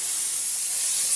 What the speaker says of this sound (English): spray some hyper dressing and walk away.